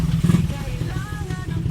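A small Hanabishi mini turbo fan motor whirs with a steady, rough hum and a faint rattle, continuous and close throughout.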